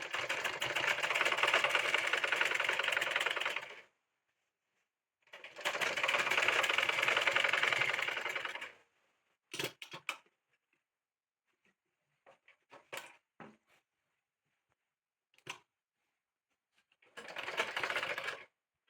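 Sewing machine running in three long bursts while stitching an abaya collar, with quieter clicks and brief mechanical taps in between the runs.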